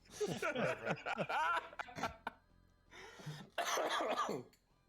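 A harsh burst of coughing and throat-clearing up close, a pause, then another rough fit of coughs.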